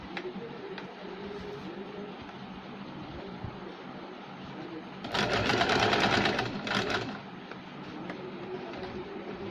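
An electric sewing machine stitches a fall onto a saree with a fast, buzzing run that swells loudly for a couple of seconds in the middle, surrounded by quieter handling and room noise.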